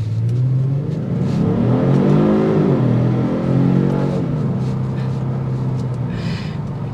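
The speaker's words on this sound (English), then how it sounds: "Oh man, that exhaust note is just intoxicating" A 2023 Kia Stinger GT2 pulls away from a stoplight, its exhaust rising in a smooth, loud climb through the revs, easing off, then building again as the car accelerates, heard from inside the cabin.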